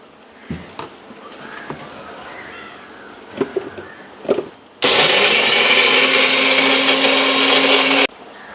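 A few soft clinks and taps, then a loud electric mixer grinder grinding dried chilies into chili powder roars steadily for about three seconds before cutting off abruptly.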